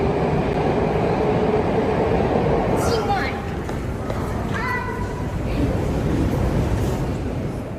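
Moscow metro underground train rumbling steadily through a station, a loud continuous roar with brief squealing tones from the wheels or brakes, with a voice speaking over it.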